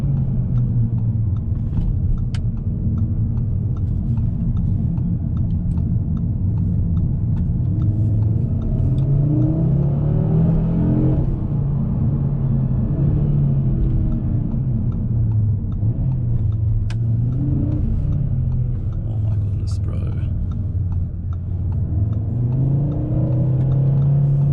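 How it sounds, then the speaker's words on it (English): Audi RS3 engine on a road test drive, a steady loud close rumble with rising and falling revs as the car accelerates, the engine note swelling and easing several times, with no talk. "This engine comes to life when you really give it some."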